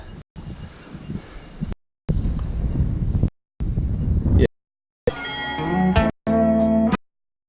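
Bursts of strong wind buffet the microphone in rough, loud gusts, broken by abrupt cuts, with some tonal noise near the end.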